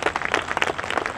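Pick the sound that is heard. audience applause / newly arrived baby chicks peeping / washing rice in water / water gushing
audience applause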